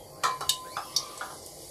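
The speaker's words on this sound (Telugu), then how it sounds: "ఇప్పుడు ఇందులో నేను పోపు వేస్తున్నాను" Mustard and cumin seeds hit two tablespoons of hot oil in a pan, giving a few sharp clinks and scattered crackles and pops, fairly faint and close, with no talking.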